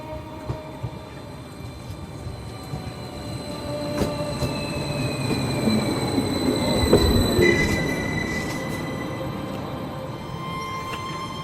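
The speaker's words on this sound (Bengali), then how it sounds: "ট্রেন এসে থামল নিঝুমপুর স্টেশনে" A train pulls into a station and slows to a halt. Heavy rumbling and clattering wagons build up, and thin, high wheel squeals rise through the middle and fade as it stops, all fairly close and without voices.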